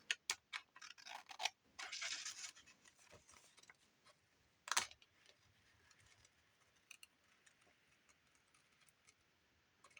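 Scissors snip through a page of a paper magazine while a Christmas journal is made, giving a flurry of sharp, close cuts early on, then one distinct snip and faint scattered rustles.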